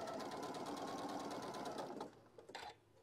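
Sewing machine stitching a petal template, a steady rapid whirring run that slows and stops, then a brief final stitch.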